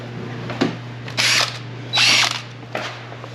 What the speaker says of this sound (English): Now we'll put the mixer in it right here.